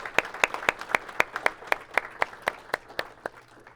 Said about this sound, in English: How about a round of applause again for all of our nominees and winners?